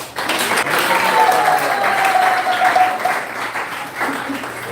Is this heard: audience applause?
yes